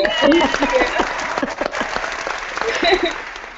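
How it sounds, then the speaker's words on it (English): Steady applause from a crowd fills the whole stretch, with a voice talking over the clapping. "So we get claps on that."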